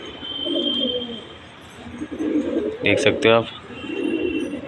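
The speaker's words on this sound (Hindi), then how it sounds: "काफ़ी सारे कबूतर हमने यहाँ पाल रखे हैं" Pet pigeons kept at a house coo in soft, repeated throaty bursts while someone talks over them, with a sharper flutter or call rising briefly near the middle.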